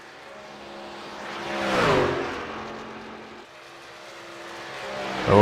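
A race car on a lap at Daytona in a sim racing game, its engine whining and rising in pitch as it swells past, then settling into a steady drone before climbing again at the end.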